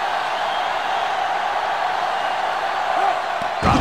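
Dense, roaring stadium crowd noise from the video game NCAA Football 2005 at a South Carolina vs. Clemson rivalry game, a steady loud wash of cheering that swells briefly near the end.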